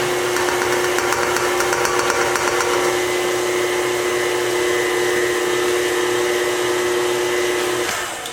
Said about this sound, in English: And turn your mixer back on.